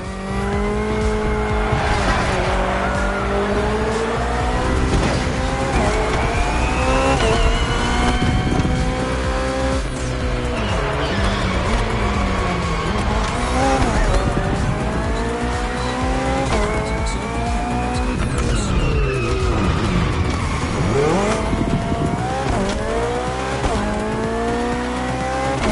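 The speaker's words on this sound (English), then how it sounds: "The Hybrid V8 will do the rest." A BMW hybrid V8 race car in The Crew Motorfest roars through continuous revving and gear shifts, its engine pitch climbing and dropping, with tires squealing through corners, loud and close throughout.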